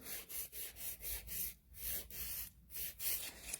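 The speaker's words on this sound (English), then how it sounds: "do some more refining with my medium coarse file" Medium coarse nail file rasping across acrylic nails in quick, short repeated strokes, close and fairly quiet, with brief pauses between bursts.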